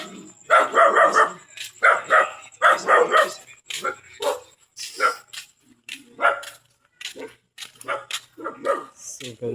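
Dogs barking and yipping while chasing, a string of sharp repeated barks in close bursts with short pauses between them, loud and near, and voices talking among them.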